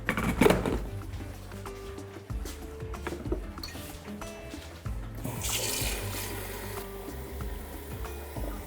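Cold water poured into a glass bowl, a splashing, trickling flow that thickens into a steadier rush in the second half, close by with light clinks and no talking.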